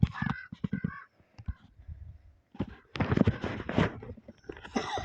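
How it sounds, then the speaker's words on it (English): Crows call outdoors where birds are being fed, with a run of short harsh caws early on and then louder, denser bursts of cawing and rustling noise in the second half, fairly close, with no clear talk. "Oh, there's a bird over there."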